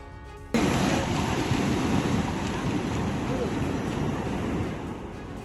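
Strong rushing flow of the Kalu waterfall near Pune, Maharashtra, a loud, steady broadband roar of churning water that starts abruptly and continues without a break, with no voices standing out.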